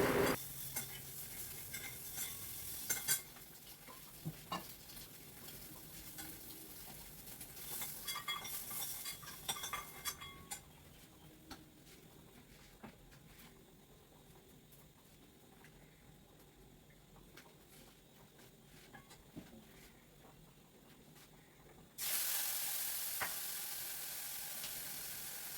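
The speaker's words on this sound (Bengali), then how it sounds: "ডিম সব সেদ্ধ, কিন্তু তাও একটু ভেজে নিচ্ছি।" Boiled eggs frying in oil with turmeric in a pan, heard as a soft continuous sizzle with stirring scrapes and utensil clinks, the sizzle growing louder late on.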